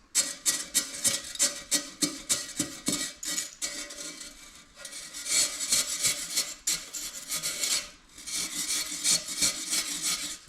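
Repeated rasping, scraping strokes of a chisel cutting wood away along a scribed profile around a BSA Bantam frame tube, close and rhythmic with brief pauses, no talking.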